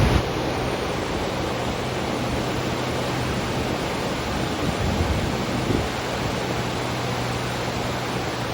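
Pacific Ocean surf at Torrey Pines, La Jolla, California, rolls as a steady, dense wash of broadband noise, loud and continuous with wind across the microphone and no voices.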